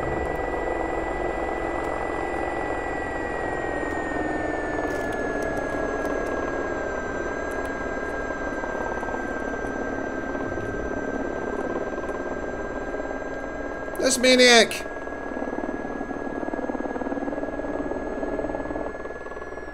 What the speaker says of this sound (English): The engine started making all sorts of bad noises.